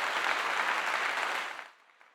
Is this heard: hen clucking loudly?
no